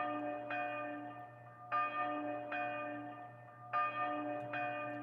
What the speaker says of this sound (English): His words ended with the toll of the church bell, signaling the coming of evening in Brillone.